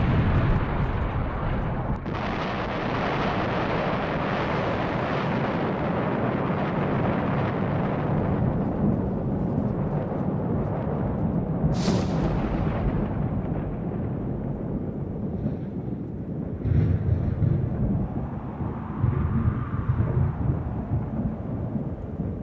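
Deep, rumbling booms roll on and on like heavy blasts or thunder, with a sharp crack partway through and a noisy, crackling wash throughout.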